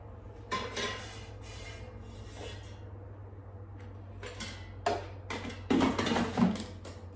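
Pop-Tarts come out of an air fryer basket: a few close metallic scrapes, clicks and rattles in short bursts over a quiet steady hum, with a busier clatter near the end.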